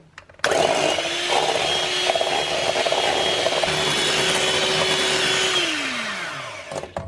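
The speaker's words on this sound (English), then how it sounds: "we're going to whisk until we have whipped cream" An electric whisk whips a cup of cream in a bowl, a steady loud motor whine lasting several seconds before it winds down and stops.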